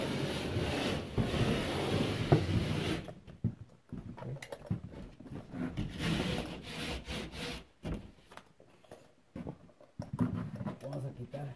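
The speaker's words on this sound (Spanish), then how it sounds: "Le vamos a raspar." A hand rasp scraping wood in short, uneven bursts of gritty friction, close and fairly loud, stopping and starting over several seconds with a person talking in the background.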